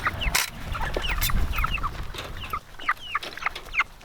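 Young five-week-old Cornish Cross chickens give short clucks and peeps in a close, busy cluster over a low background rumble.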